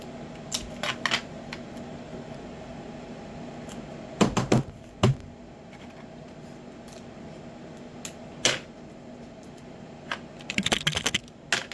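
Adhesive tape is pulled and torn while a round-base dragon puppet is built, heard as several short, sharp ripping bursts separated by quiet pauses over a low room hum.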